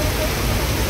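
Heavy rain pours steadily and loudly outside a KFC during a storm. The downpour is a dense, unbroken hiss with no pauses and no other sounds.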